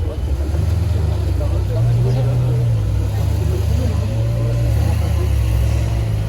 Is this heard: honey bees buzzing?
no